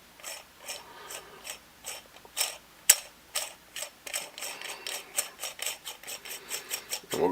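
Metal threads of an Innokin iTaste SVD variable-voltage vape mod are screwed together in a steady series of close, ratcheting clicks and scrapes that grow slightly louder toward the end.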